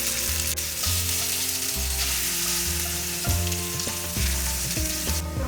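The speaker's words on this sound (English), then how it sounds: "I will fry them in 2 batches. Fry them both sides evenly until they are golden." Bengali lentil cakes (dhoka) frying in hot oil give off a steady, close sizzle with bubbling crackle, broken by a few soft knocks as the pieces are moved or turned.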